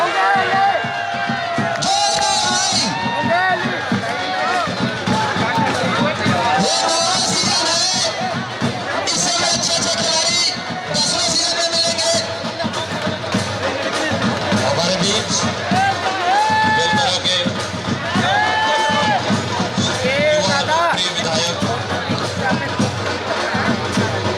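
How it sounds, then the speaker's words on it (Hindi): Crowd at a kabaddi match cheering and clapping loudly throughout, with whoops rising in bursts over continuous babble and a commentator's voice in the mix. "एक बार हमला करके जोरदार ताली दे दो।"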